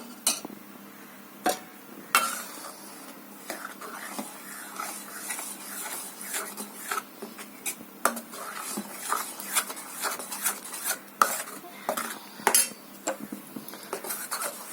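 A spoon stirs water apple jam in a pot on the stove, producing frequent light metallic scrapes and clinks against the pot in an uneven rhythm, close and moderately loud, with no talking.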